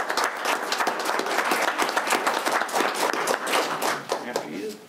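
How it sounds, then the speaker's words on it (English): An audience applauds, a dense, even clatter of many hands clapping that fades near the end, with some voices mixed in. "Let's give them a round of applause."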